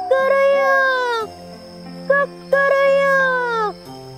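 A person imitates a rooster's crow, giving two drawn-out, wavering calls separated by a short, clipped cry.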